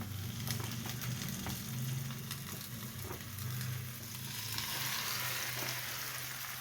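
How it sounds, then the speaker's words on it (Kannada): Akki rotti, a rice flatbread, sizzles steadily on a hot pan, a continuous close hiss and crackle with a low hum beneath, with no voices. "ರೊಟ್ಟಿ ಹಾಕ್ತಾಯಿದ್ದೀನಿ ನೋಡಿ"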